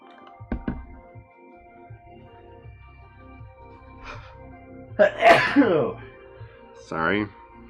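A single loud sneeze bursts out close up in a quiet indoor room during clay sculpting work, preceded by faint clicks and a throat-clearing sound, then a short second vocal burst.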